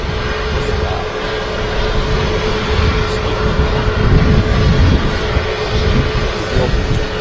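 A Ryanair jet on the runway at Manchester Airport gives a continuous loud, steady engine roar and rumble with a faint constant whine throughout, no voices.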